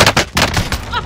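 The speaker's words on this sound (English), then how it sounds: "I'm taking fire!" Rapid automatic gunfire in the Call of Duty Modern Warfare video game, a dense burst of repeated loud shots over about a second with chaotic battle noise.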